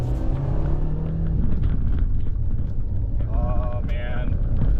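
A JDM car with a freshly rebuilt transmission pulls away in first gear, its steady engine drone and road rumble loud and continuous, with wind noise buffeting the microphone and faint higher whines near the end.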